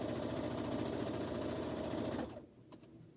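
A sewing machine runs steadily while stitching through quilt blocks, a loud rapid mechanical chatter close by, then it stops abruptly with a couple of faint clicks afterward.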